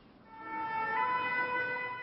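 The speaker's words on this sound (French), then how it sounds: "Les sirènes hurlent au milieu d'une grande lassitude." A city-centre emergency siren wails in a steady, fairly faint tone that swells slightly over a couple of seconds, with no voices.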